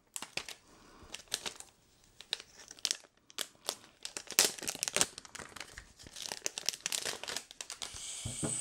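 A Fire TV Cube (2nd generation) being unboxed: close crinkling and tearing of packaging in irregular bursts, with rustles and small crackles, fairly quiet and without talk.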